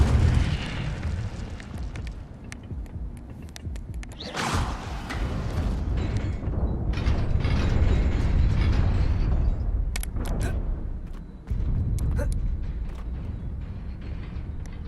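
Incendio fire spell casts in Hogwarts Legacy, with whooshing bursts of flame and booming, roaring blasts that swell and rumble over a continuous loud background, including a sharp renewed burst near the end.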